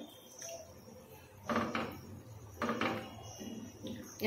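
A spoon stirs warm milk with Amul milk powder in a steel vessel, giving a few close, brief clinking scrapes in separate bursts with quiet pauses between.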